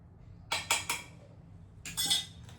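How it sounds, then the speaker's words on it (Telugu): A spoon beats curd batter mixed with soda, oil and salt for Mysore bonda, giving a few quick clinks against the bowl, then a pause and another short burst, with no talk. "సో ఇవన్నీ కలిపేసి మళ్ళీ బీట్ చేసేసుకుందాం"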